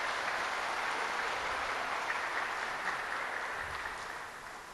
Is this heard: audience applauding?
yes